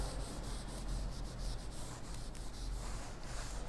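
Steady rubbing on a classroom board as a drawing of a plant's reproductive parts is erased, a continuous soft scrubbing with faint rhythmic strokes and no speech.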